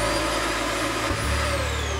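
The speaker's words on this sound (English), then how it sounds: "So what I love that they did is they put a vacuum down here" A built-in floor vacuum inside a Palomino Pause XC20.3 off-road camper trailer runs with a steady, loud motor whine and airy suction roar, a brief dip midway, alone without talk.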